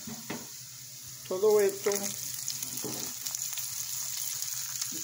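Potatoes frying in a pan give a steady sizzle throughout, joined by a few stirring clatters, while a person speaks briefly near the middle.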